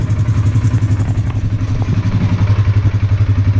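A 2018 Polaris Sportsman 570 ATV engine idles steadily with a rapid, pulsing putter and light mechanical clatter, close and constant throughout.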